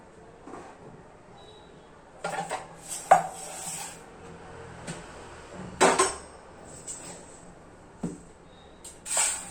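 Metal pots and utensils clank and clatter in a home kitchen as a pressure cooker is set up for dal and rice, with scattered sharp knocks and clinks in separate bursts and no voices.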